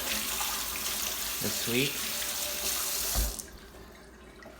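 A kitchen tap runs steadily into a sink while hands are washed before making homemade crepes. The close, rushing water flows for about three seconds and then shuts off abruptly, and a voice speaks briefly during it.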